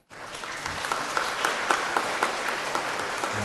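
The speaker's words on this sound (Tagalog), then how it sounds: "Pumalakpak ng malakas" A congregation at a church homily service breaks into loud clapping, starting abruptly and holding as a dense, sustained ovation of many hands.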